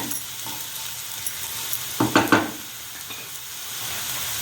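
Turmeric stirred into browned ingredients frying in a pan, a steady soft sizzle with a few brief spoon scrapes and clinks near the middle.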